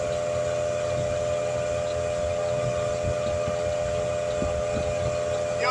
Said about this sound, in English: that little air compressor can do a lot of work for you